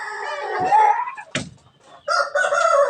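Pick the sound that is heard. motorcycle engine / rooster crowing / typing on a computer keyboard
rooster crowing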